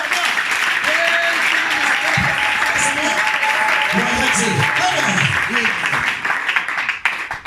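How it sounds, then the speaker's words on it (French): A church congregation at a worship service applauds loudly and steadily, with voices calling and singing over the clapping before it thins out toward the end. "On acclame pour mon Dieu."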